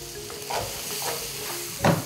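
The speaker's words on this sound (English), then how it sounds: "I'm going to stir fry my uziza" Uziza stir-fried in a pan, a short burst of close sizzling with soft scraping strokes and a louder scrape near the end.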